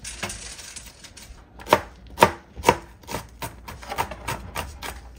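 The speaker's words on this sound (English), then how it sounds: "dicing up the jalapenos" A knife dicing jalapenos on a cutting board gives a run of crisp, close chopping taps, sparse at first and then a quicker irregular series of sharp knocks, with no talking.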